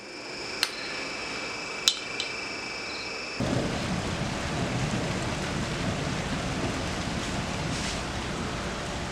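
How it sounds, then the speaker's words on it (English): A rainstorm, with a couple of sharp cracks early on before heavy, steady rain suddenly roars in and continues loudly on the surfaces of an outdoor build site. "we have a little bit of a storm going on"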